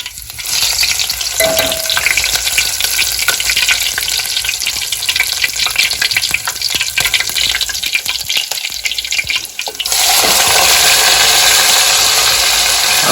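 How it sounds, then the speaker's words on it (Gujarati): Cumin seeds and chili pieces frying in hot oil for stuffed brinjal curry, village-style cooking: a loud, steady sizzle and crackle running throughout, surging even stronger near the end. "તો હવે આપણે આ નાખી દઈએ છીએ જીરો હવે મરચાની કટકી છે થોડીક"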